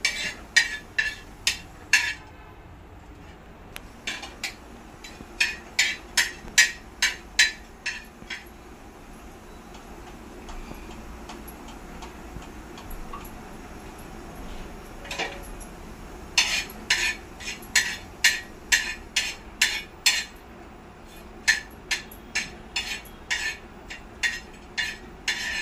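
Cinnamon sticks, cloves and green cardamom dry roasting in a pan, heard as bursts of sharp metallic clinks and scraping from stirring, coming in repeated clusters over a faint background with no talking.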